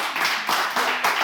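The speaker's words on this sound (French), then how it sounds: "Pourquoi vous applaudissez?" People in a meeting hall clap in a few loud, close, rhythmic beats, a short burst of clapping with no talking over it.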